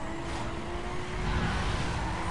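A car revs outside, a steady engine drone building slightly louder toward the end, heard at a moderate distance without any talking.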